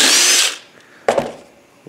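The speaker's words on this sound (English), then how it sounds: "So by drilling a hole through here" Power drill boring a hole through a plastic water filter housing: a loud half-second whir that winds down, then a short second burst and the start of a third, close up.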